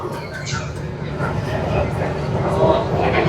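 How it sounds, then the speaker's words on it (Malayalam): A Bangalore metro train in motion makes a steady, broad rolling rumble inside the carriage, growing slightly louder over a few seconds, with faint voices in the background. "ഞങ്ങൾ മെട്രോയിൽ കയറിയത് വളരെ നല്ല തീരുമാനമായിരുന്നു"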